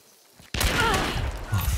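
A single loud gunshot blast in the multiplayer shooter Hunt: Showdown bursts out after near silence, followed by a ringing, rumbling decay and faint game ambience.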